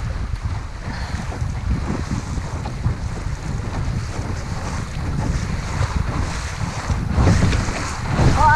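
Wind picking up suddenly on a sailboat at sea: steady roaring gusts buffet the microphone over the wash of water against the hull, swelling louder toward the end.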